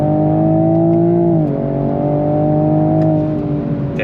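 A Toyota Supra Mk5 Final Edition engine pulls hard on throttle through twisty roads, a loud, steady harmonic drone that dips briefly and rises as revs build, with no talking over it.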